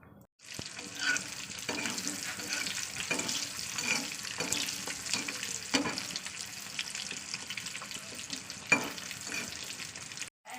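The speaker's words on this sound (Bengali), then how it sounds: "এবার ডিমটাকে দিয়ে দিই।" An egg frying in hot spiced oil, a steady crackling sizzle with scattered pops and spits that runs throughout at moderate level, close by and with no talking.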